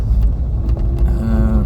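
A Renault Super 5 GTR 1.2 engine roars loudly nearby, picked up through an open car window as a dense low rumble with a rising tone near the end.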